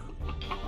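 A chicken in the prop-hunt game Witch It gives a brief, close cluck, loud and alone over a steady low game background.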